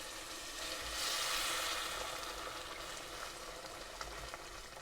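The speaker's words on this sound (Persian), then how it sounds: "آب جوشم هم اضافه میکنم بهش." Mung beans frying in a pot give off a steady, bright sizzle that swells as boiling water is poured in, then settles into a continuous hissing fry, with no talking.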